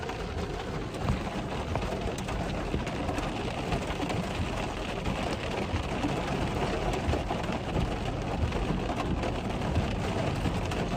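Steady heavy rain hisses and patters during a supercell thunderstorm in the Texas Panhandle, a dense, constant wash of sound with low rumbling underneath and no talking.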